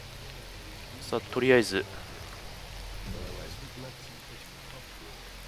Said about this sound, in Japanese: 雨がすごいから入りたい。